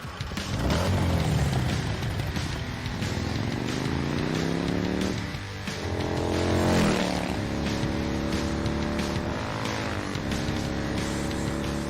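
An Arch motorcycle engine revs hard, loud and close, rising and falling through repeated throttle sweeps with a strong steady growl underneath.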